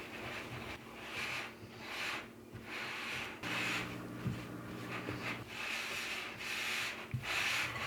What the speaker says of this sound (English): And stir this till it's really, really combined